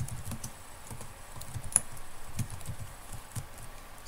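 Typing on a computer keyboard during HTML coding, a run of quick light key clicks in uneven bursts, close and fairly soft, with one sharper tap partway through and no voices.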